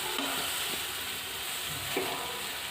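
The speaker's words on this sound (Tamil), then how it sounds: "நம்ம ஆட் பண்ண அந்த கருணைக்கிழங்கு அந்த மசாலாவில் நல்லா படுற மாதிரி நல்லா கிளறி விடுங்க" Diced yam being stirred in a sizzling masala in a pan on low heat, a steady frying hiss with a couple of soft scraping strokes, no talking.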